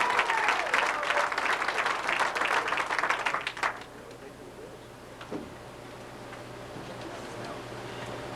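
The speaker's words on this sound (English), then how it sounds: "Let's have a big round of applause for Johnny Tapia." Press conference audience applauding a boxer, a burst of clapping for about three and a half seconds that cuts off, followed by quieter room noise.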